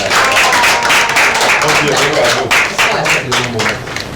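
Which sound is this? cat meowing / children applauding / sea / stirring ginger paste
children applauding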